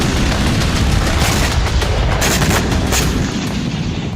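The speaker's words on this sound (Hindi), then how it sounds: "इसी के साथ ही जोरदार धमाका हुआ" A heavy, roaring explosion rumbles continuously with crackling bursts on top, loud and dense, slowly fading at the end.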